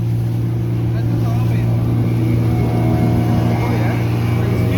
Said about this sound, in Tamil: ஸ்பீட் போட் போடுங்க.